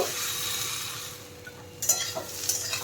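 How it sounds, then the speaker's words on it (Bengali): Vegetables with ginger paste sizzle steadily in a hot pan, a close, continuous fry that grows louder near the end as a spoon scrapes and stirs through them. "আদা বাটাটা দিয়ে কিছুক্ষণ সবজিটা কষিয়ে নিয়েছি"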